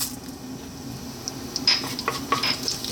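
Cumin seeds and dried red chili sizzling in hot sunflower oil, a steady soft fry with a few metallic clinks and stirring scrapes toward the end, close and without talk.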